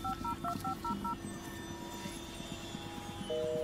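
Telephone dialing in the video game Blair Witch: a quick series of about six two-tone DTMF key beeps over a low droning background, followed by a steadier tone near the end.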